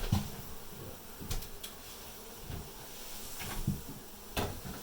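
Honey bees buzzing in a steady, dense drone during a cutout in Dorrance, Kansas, with a few louder knocks and thumps of handling breaking through the hum.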